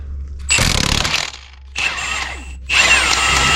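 An impact wrench on its bolt buster setting hammers at a water pump bolt on a 2008-2015 Hyundai Santa Fe/Kia Sorento 3.3L, in three loud, close bursts of rapid whirring rattle with short pauses between them.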